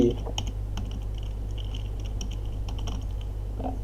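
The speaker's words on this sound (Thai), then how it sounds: "พิมพ์อย่างนี้นะฮะ localhost wordpress wp-admin install จุด php นะฮะ" Quick, light keystrokes on a computer keyboard as a web address is typed, with irregular clicks over a steady low electrical hum.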